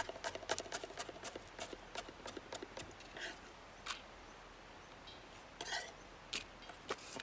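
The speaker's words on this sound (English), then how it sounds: "So now that the coriander is dried, I'm chopping it up." A knife chops dried fresh coriander on a board in a quick, irregular run of crisp taps, pausing in the middle and then resuming, close and fairly quiet.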